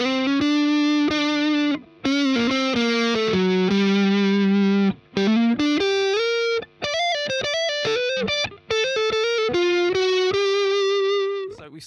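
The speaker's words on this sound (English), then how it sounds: "So we started off with that nice sort of tubey distortion sound there." A distorted electric guitar plays a melodic lead line through a gritty, saturated tube amp, notes sustaining with brief gaps between phrases.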